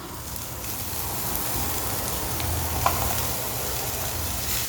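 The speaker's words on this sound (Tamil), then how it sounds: "இப்போ வெங்காயம் லைட்டாக வதங்கினதுக்கப்புறம் நம்ம கட் பண்ணி வச்சுருக்கோம்ல அந்த கீரையை சேர்த்துக்கலாம்." Manathakkali greens and sliced onions sautéing in a pan for a poriyal, giving a steady close sizzle and frying hiss throughout, with one brief brighter crackle near the end and no talking.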